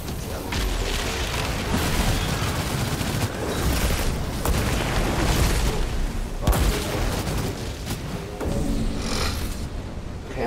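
Loud, sustained gunfire from the video game Outriders, a dense fusillade of rapid shots and booms running almost continuously, with brief dips between bursts.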